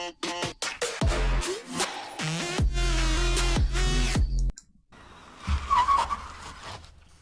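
A self-driving car brakes hard and skids, with several loud, sharp tire squeals in close succession followed by a short quiet gap and a final fainter screech.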